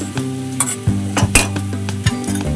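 Carrot halwa with grated coconut stirred in a pan, with a spoon scraping in repeated irregular strokes over a low sizzle, close up, alongside a steady low tonal hum and no speech.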